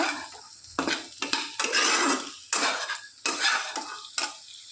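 A spoon stirs a spice mixture with chili powder in a cooking pot, giving close, repeated scraping strokes in uneven bursts with a faint sizzle between them, and no voices.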